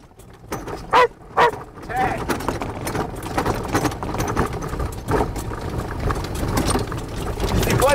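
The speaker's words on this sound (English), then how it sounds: "I got a dog that won't shut up." A dog on a golf course barks in a couple of sharp, loud close yelps near the start, followed by a steady engine-like rumble and mixed background noise, with people talking.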